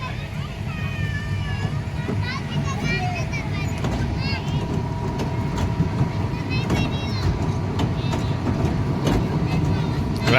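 A toy train ride at a fairground hums and rattles steadily, with lively chatter and children's voices over the rumble and occasional clicks.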